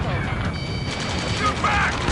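Gunfire and combat sounds from the video game Ace Combat 7, a dense steady din of shots and mechanical noise at mid distance, with shouting voices mixed in.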